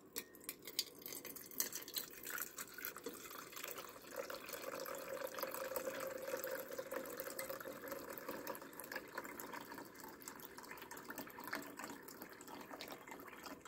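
Potassium chloride solution pours steadily into a container, a faint continuous trickling and splashing of liquid that holds for the whole span without talk.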